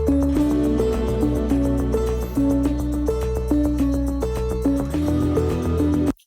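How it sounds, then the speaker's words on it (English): A full pop music mix of bass, soft stabs, piano and acoustic guitar with tambourine and handclaps and drums, playing steadily and loud before cutting off abruptly at the end. "you can hear that tambourine and clap down here"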